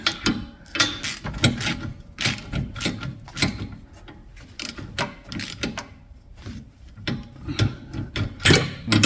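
A hand ratchet snugs down rear trailing arm bolts on a 2008 Pontiac G6, rapid bursts of sharp metallic clicking that start and stop in uneven strokes, close and fairly loud.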